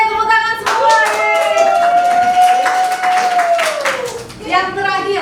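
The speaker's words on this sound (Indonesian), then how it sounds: "tepuk tangan semua" Classroom audience clapping together, a steady burst of hand claps under children's voices, with one voice rising and falling over the clapping before it fades and talk resumes.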